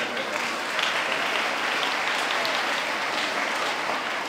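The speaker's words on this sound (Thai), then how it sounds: "ปรบมือให้กับนักเรียนรุ่นพี่" Students clap for senior students in a school classroom, producing a continuous, even wash of applause from many hands that stays moderately loud throughout and has no talking over it.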